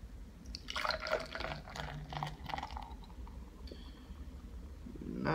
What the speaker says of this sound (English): Try to show you guys a pour here.